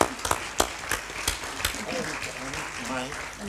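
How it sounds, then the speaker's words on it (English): Audience applause for Olivia Harrison at a Berlinale 2015 panel discussion, a scattered patter of claps with a few sharp close ones early on, thinning into lighter clapping and murmur. "we can give her a round of applause"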